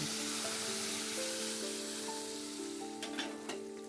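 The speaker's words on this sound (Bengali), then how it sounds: "আমি কিন্তু ফোড়নে এইটাই একদম ঢেলে দেবো" Moong dal cooked with young bottle gourd poured into hot spiced tempering, a steady close hiss of sizzling oil that slowly settles, with a few faint clinks near the end.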